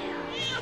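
A single drawn-out meow voiced by a person imitating a cat, close and clear, lasting under a second.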